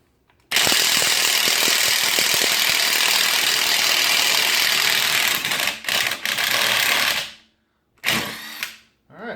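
Ryobi P261 half-inch impact driver running in a long loud continuous hammering burst, followed by a few short stuttering bursts and brief pauses, close to the listener.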